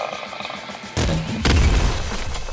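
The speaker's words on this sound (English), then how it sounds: "Grenade rifle." A grenade rifle fires in the video game Nuclear Throne, sharp booming blasts and explosions, one sudden burst followed by a heavier second boom, loud and close over a background game soundtrack.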